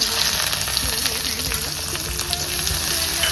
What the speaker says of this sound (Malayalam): ബാക്കി വന്ന എണ്ണയിലേക്ക് നമുക്ക് നീളത്തിൽ അരിഞ്ഞു വെച്ച ഇഞ്ചി, ഒരു 2 അല്ലി വെളുത്തുള്ളി, അത് ഇതിനകത്തേക്ക് ഇടുകയാണ്